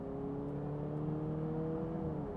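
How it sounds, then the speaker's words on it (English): A Mercedes GLC 350e with a 2-liter engine revving as it accelerates, a steady, fairly close engine drone with rising harmonic tones, continuous and without speech. "that sounds mean. And it's just a 2-liter engine."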